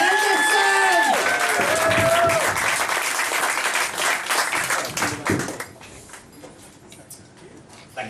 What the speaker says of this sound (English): I would like this time Fran to start a round of applause